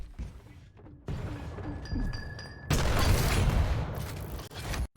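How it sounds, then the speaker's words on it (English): A heavy rocket blast booms in a Quake Pro League match, followed by a dense, crashing burst of game explosions and impacts that swells louder toward the end, with no talk over it. "but hits a full rocket as well"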